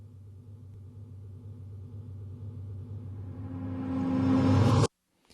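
A reversed hit effect made in FL Studio: a low rumbling swell builds steadily louder over about five seconds, brightening into a noisy peak before cutting off abruptly into silence.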